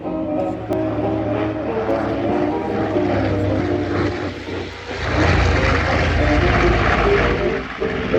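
A B-25 bomber's propeller engines drone loudly overhead at an air show, swelling as the plane passes, with faint crowd noise underneath.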